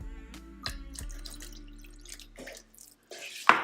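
Water trickling and dripping into a pan of simmering masala gravy for besan gatte, a short steady pour followed by a brief louder splash at the end, close and without voices.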